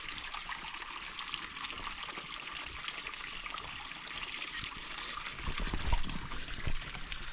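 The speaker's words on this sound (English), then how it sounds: "now they have some of it flowing through this bamboo pipe" Sacred spring water trickling through a bamboo pipe at an ancient Japanese shrine, a steady close-up splash and gurgle that holds evenly, swelling slightly louder near the end.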